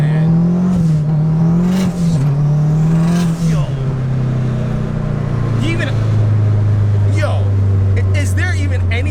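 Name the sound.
turbocharged 1992 Honda Civic SiR K20/K24 accelerating hard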